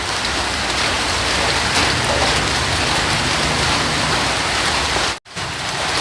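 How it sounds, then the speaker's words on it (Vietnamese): Steady rain pours down in a dense, even hiss, loud and continuous, with a brief dropout near the end. "Sao trời cứ mưa suốt thế nhỉ?"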